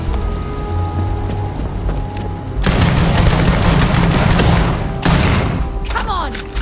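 Sustained bursts of gunfire from a gun in the space game Starfield, loud dense volleys with sharp onsets around three and five seconds, layered over game background noise.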